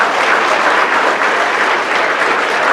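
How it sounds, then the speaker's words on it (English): Conference audience of frontline workers clapping for themselves, a loud, dense and steady wash of applause from a large crowd, sustained without a break. "the next little exercise is I want you to clap for yourself"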